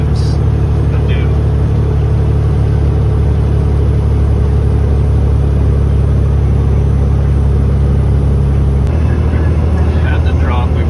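Hay truck engine lugging down under heavy load on an uphill pass, a steady loud low drone that deepens near the end as a gear is dropped.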